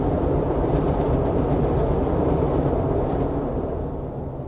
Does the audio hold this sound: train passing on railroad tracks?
yes